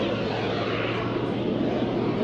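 The Pitts Special aerobatic biplane flown by Rich Goodwin at an aviation show, its smoke system running. The engine drones loud and steady throughout as it passes, a broad continuous roar.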